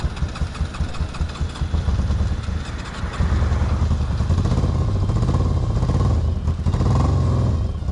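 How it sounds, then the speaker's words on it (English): A cheap sportsbike motorcycle engine runs close by after being restarted, a loud, steady, slightly uneven throbbing idle with a brief rise in revs partway through. "but we managed to get the bike starting again."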